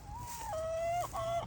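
Backyard chickens kept on deep litter in their coop and run, heard as a single bird's drawn-out, wavering call with a rising tail, fairly close and clear over faint background noise.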